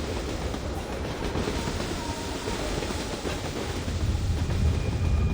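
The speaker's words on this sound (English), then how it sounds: "A blizzard rages outside, buffering the train as it speeds into the night." A train in the game Reverse 1999 speeding through a blizzard at night, a dense continuous rumble and rushing roar that holds steady and swells slightly louder toward the end, with no voices.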